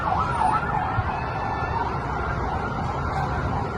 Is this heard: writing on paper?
no